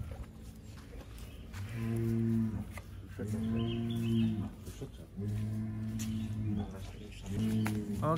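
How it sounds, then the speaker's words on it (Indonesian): Cattle moo repeatedly in long, deep calls as a banteng bull is loaded, four drawn-out lows coming one after another at close range, with faint bird chirps behind them. "ini sapi kedua kita masukkan si banteng"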